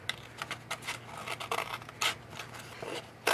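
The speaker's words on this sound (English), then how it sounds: "you're going to use your scissors to just cut off that excess" Scissors snipping off excess material from a paper pennant piece for a Halloween craft banner, a quick run of close, crisp cuts at an uneven rhythm.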